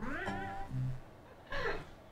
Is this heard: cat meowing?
yes